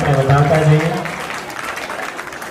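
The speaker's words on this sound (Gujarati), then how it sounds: "તાળીઓના ગણગણાટથી આપણે વધાવતા જઈએ" An audience at a family gathering's prize ceremony in Surat breaks into applause, a brief broadband patter of clapping that follows a voice speaking at the start.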